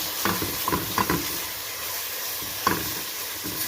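Spices sautéing in a pan for Saudi kabsa, a close, continuous sizzle and hiss broken by several sharp scrapes and clinks of a spoon stirring.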